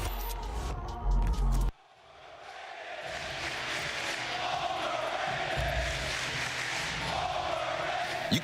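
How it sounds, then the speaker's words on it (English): An esports arena crowd at a Call of Duty League 2022 Major II qualifier roars in a sustained, broad wash of cheering that swells and holds, following a brief loud burst at the start. "You can hear it from the crowd"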